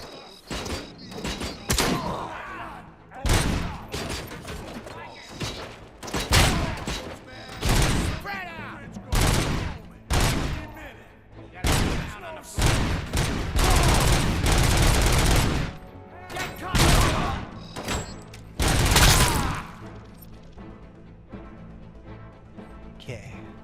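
Repeated shotgun blasts ring out in the first-person shooter RoboCop: Rogue City, loud, close booms spaced irregularly among steady in-game combat noise, with a heavy sustained burst of gunfire near the middle.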